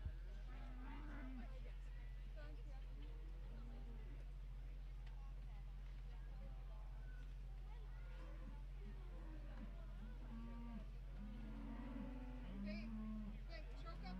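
Spring yearling heifers of an English breed low in a county fair show ring, with repeated moos over a steady low hum and background crowd chatter and talk.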